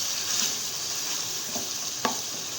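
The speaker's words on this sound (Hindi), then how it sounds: "ये अच्छी तरीके से यहाँ पे फ्राई हो रही है चिकन" Chicken pieces fry in a karahi over a high flame, giving a constant bright sizzle with occasional soft stirring scrapes and one sharper clack of a spoon against the pan.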